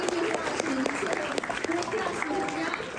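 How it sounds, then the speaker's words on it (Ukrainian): A crowd at a youth IT hackathon applauds the prize-winning team with dense, steady clapping, while voices talk and call out over it throughout. "Виконавці отримують приз, отримують ваші оплески."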